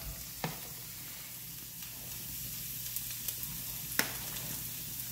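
Bluegill fish from Lake Erie sizzle steadily in a pan with coriander as they are stirred, a constant frying hiss broken by a few sharp utensil clicks near the middle and end.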